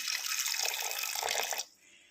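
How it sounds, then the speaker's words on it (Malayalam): Water pours steadily into a pressure cooker holding jackfruit seeds, a close, even splashing gush lasting about a second and a half before it stops, leaving quiet. "ഇനി ആവശ്യത്തിന് വെള്ളം ഒഴിക്കാം"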